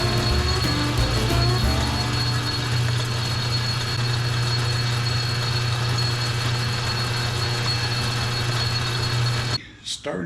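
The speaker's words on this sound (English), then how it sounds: "Next, I'm going to give that inside edge just a little bit of a bevel." Steady machine drone of a lathe cutting a bevel on the inside edge of a Grade 2 titanium ring, a continuous mid-to-high tonal whine held loud and close for about nine seconds before cutting off abruptly.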